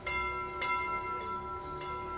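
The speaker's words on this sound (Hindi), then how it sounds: "हाँ, घंटियां बज रही है।" Bells ring during a heated election-season TV debate show, a steady ringing tone with repeated strikes about every half second, moderately loud and alone with no talking.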